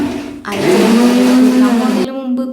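An electric mixer grinder whirs loudly for about a second and a half, grinding coriander, chili and turmeric powder, then cuts off abruptly, with someone speaking before and after.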